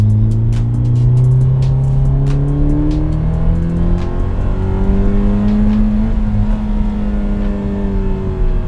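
A Scion FR-S sports car's engine revs hard in Sport mode at about 80 km/h, its note climbing in steady surges with a loud, close, continuous roar and no talking.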